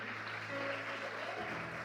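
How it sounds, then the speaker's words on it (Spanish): Congregation applauding during a Spanish-language church sermon, a steady wash of clapping at moderate level with a low organ or keyboard tone sustained underneath and shifting pitch near the end. "dale un aplauso al Señor Jesús"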